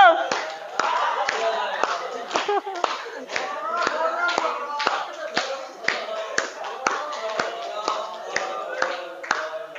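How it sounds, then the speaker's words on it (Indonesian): Children in a classroom clap their hands together in sharp, repeated claps at a brisk, uneven rhythm, with voices chattering between and over the claps. "Oke, tepuk tangan."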